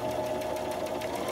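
A sewing machine runs steadily while stitching a fabric scrap ribbon, producing a fast, even mechanical whir and rhythmic needle ticking that carries on unbroken for the whole moment.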